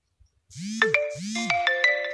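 A phone chimes with an incoming message notification: two rising tonal swoops followed by a bright run of melodic electronic notes, clear and close, with no speech.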